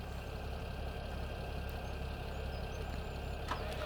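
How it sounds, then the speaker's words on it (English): A tractor engine idles steadily in the Farming Simulator 2017 video game, a constant low mechanical drone running alone for the whole stretch without change in pitch. "so we'll have to move our tractor."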